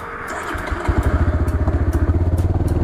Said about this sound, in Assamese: মোৰ বাইকৰ স্পীড আছে 51-52